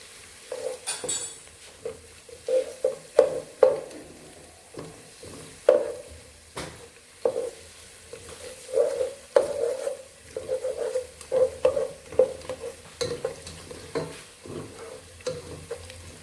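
Ginger garlic paste sautéed in a pan for chicken mandi, with steady sizzling under irregular scraping and clinking of a spoon against metal, repeated stirring strokes, close and without speech.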